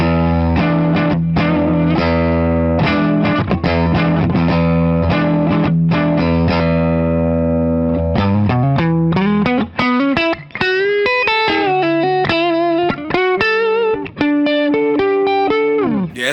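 Distorted electric guitar on the neck pickup, a Leo Jaymz double-cut, with a warm, rounded tone plays chords, then shifts to a run of sustained single notes with effects, loud and continuous.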